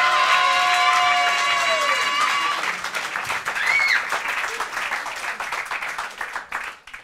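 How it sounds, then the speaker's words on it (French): A comedy show audience in Paris claps and cheers for young stand-up comedian Moulay Sidki, with a dense, loud burst of applause and a brief whistle over a fading musical sting, tapering off near the end. "Je vous demande d'applaudir Moulay Sidki."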